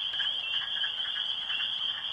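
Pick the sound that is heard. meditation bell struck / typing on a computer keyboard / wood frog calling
wood frog calling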